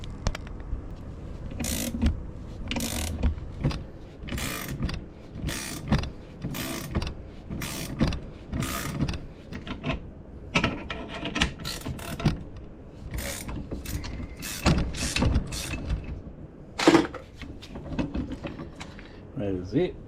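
A 22 wrench ratchets a C-clamp bolt tight during a suspension upgrade on a Honda CRX. Rapid metallic clicks and clacks repeat up close in uneven bursts, with a person talking over the work.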